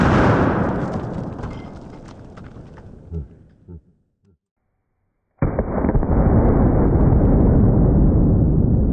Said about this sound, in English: every time I shoot these watermelons, it always smells so freaking good